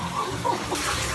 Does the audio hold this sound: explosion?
no